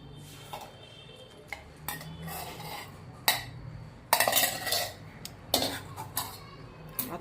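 Sugar syrup is stirred into roasted semolina and gram flour for rava barfi, with irregular scraping and clinks of a spoon against a metal pan, close by, plus a few coughs.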